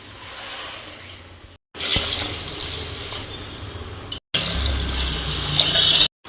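Water runs and splashes steadily into a pot holding one and a half cups of rice for cooking, in two bursts with short pauses between, close and fairly loud with a faint clink.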